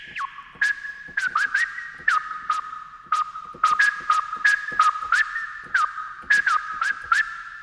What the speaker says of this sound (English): Nice little whistle sound there.